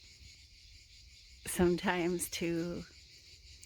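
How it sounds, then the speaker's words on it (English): Insects like cicadas keep up a steady high-pitched buzzing near Lake Maggiore, a continuous faint drone that runs throughout while someone talks briefly in the middle. "you can hear the insects, something like cicadas"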